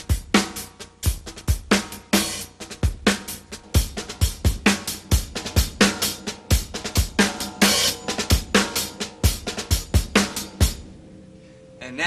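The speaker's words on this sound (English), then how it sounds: "since this song has such a march quality to it, I decided to use the double ghost stroke" A solo drum kit plays a slow march-style groove with double ghost-stroke drags on the snare, kick and hi-hat, in an even pattern of close, crisp hits before ringing out at the end.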